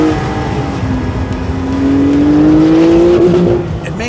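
A Porsche 911 Turbo accelerates hard at speed, its engine note climbing steadily and loud and close for most of the run before easing off near the end, with no talk over it.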